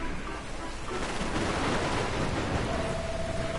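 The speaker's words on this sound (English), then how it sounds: "Looks like there's another storm rolling in." Steady rain and rumbling thunder from a storm rolling in within the video game Dragon Quest Builders 2, a dense continuous wash of rainfall with thunder swelling through it and a faint tone near the end.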